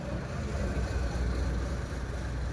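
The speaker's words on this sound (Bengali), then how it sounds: "ইঞ্জিনের আওয়াজটাও শোনেন।" A used car offered for sale sits running with its engine idling smoothly, a steady, even low rumble heard close with no knocks or other sounds.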